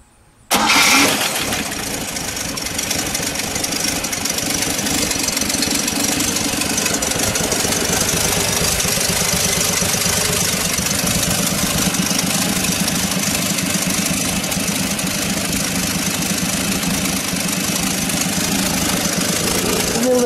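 A 1965 AMC Rambler Marlin engine cranks briefly after a moment of quiet, catches, and settles into a loud, steady, slightly rough idle that runs on close by.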